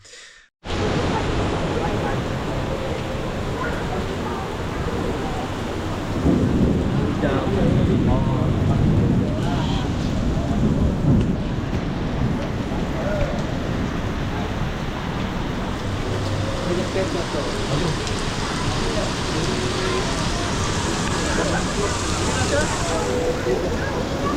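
Heavy rain pours down in a dense, loud, unbroken hiss that fills the whole stretch, with a brief rise in intensity partway through.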